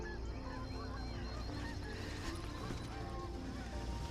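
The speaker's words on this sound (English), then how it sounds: "there is a ton of geese" A flock of geese honking in the distance, many overlapping calls over a steady outdoor background.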